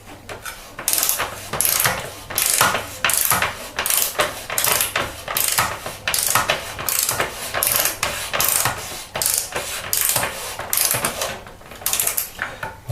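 Ratcheting clicks from a tool tightening a Shimano 105 Hollowtech II chainset on a bicycle, a rapid run of close mechanical pawl clicks in repeated short bursts, with no talking.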